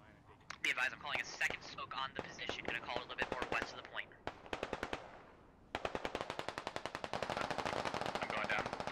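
MG3 machine gun fire in the Squad video game comes in long, rapid, loud bursts with short gaps, with radio chatter and low voices running underneath.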